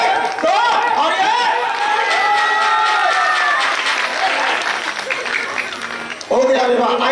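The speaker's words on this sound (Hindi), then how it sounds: "अब सब लोग ताली बजाना जोर से" A loud burst of audience clapping at a Krishna birth leela performance in Vrindavan, dense and sustained with cheering and chatter mixed in. It thins briefly near the end, then surges again.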